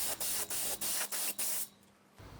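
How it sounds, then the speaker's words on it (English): A spray gun lays down a thick coat of paint in five rapid hissing bursts, each one close and loud, followed by quiet. "because we spray it on quite thick"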